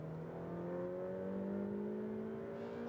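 A Ferrari F8 Tributo accelerating hard on a racetrack, its engine note climbing steadily as rising harmonics sweep upward for about three seconds, loud and close with no talk over it.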